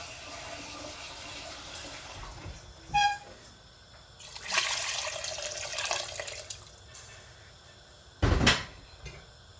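Water poured into a pressure cooker holding lamb trotters for paya: a couple of short knocks and clatters, then a few seconds of splashing, gurgling flow, and a final sharp clunk, in a quiet kitchen without speech.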